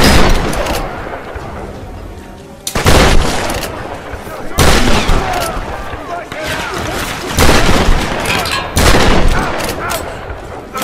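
Repeated loud gunshots and bursts of gunfire in the Tomb Raider (2013) video game, sharp cracks in quick clusters over steady game noise, with a person talking over the shooting.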